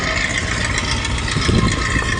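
A large motor launch and sand-carrying trawlers on the river at Narayanganj port: a steady, loud diesel engine drone with a continuous rumble and wash, no talk.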